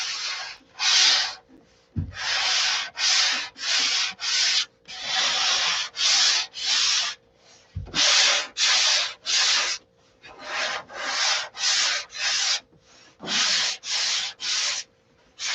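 Steady back-and-forth strokes of sandpaper on a block rub across wood by hand, loud and close, in a regular rhythm with brief pauses between passes.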